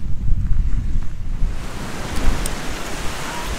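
Gusty wind buffets the microphone on an Arctic Ocean swimming beach, a heavy low rumble in the first half giving way to a broader hissing wash like surf breaking nearby.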